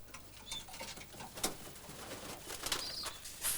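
Soft cooing and shuffling of several month-old racing pigeons indoors in a loft, with light fluttering and scratching sounds, fairly quiet and close.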